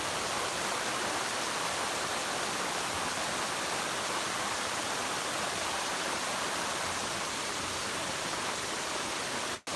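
A waterfall pours into an Erie Canal lock, giving a steady, loud broadband rush of falling water that holds constant throughout with no voices.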